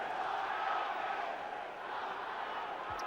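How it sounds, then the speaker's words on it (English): A large football crowd at a Derby County European Cup match against Slovan Bratislava shouts and roars together for a player, a dense, sustained wash of voices heard from a distance. "Crowd shouting for Charlie."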